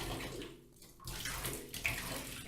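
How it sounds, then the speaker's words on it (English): Water runs steadily into a filling bathtub as bubble bath is poured in, a continuous close rushing wash with a brief dip partway before the flow swells again, no talking. "All right, now pouring in some bubble bath."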